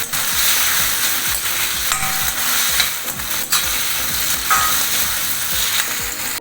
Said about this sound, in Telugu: ఈ టమాటాలు ఇంకొంచెం సేపు మగ్గాలన్నమాట.